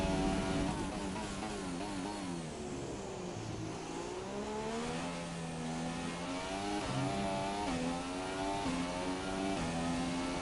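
A McLaren Formula 1 car's engine in the racing game F1 2017, a loud sustained high-revving whine that rises and falls through gear changes, rising through each gear along a straight, heard alone without talk.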